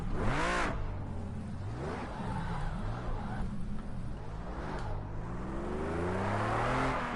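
Race car engines in Project Cars 2 rev up and down through gear changes, with a loud close engine note sweeping up and down and a brief pass-by whoosh near the start.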